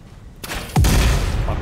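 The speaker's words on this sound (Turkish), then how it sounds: "Patlayıcı mermiyle şunlar patlıyor mu?" Explosive ammo detonates in the factory-building game Satisfactory (Update 6), a sudden close, loud blast with a heavy low boom that lingers and rumbles on, preceded by a fainter thump.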